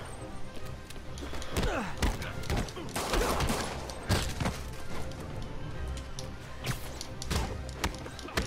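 Scattered gunshots and bursts of fire in a Spider-Man video game fight, sharp cracks repeating irregularly amid busy combat noise, moderately loud throughout.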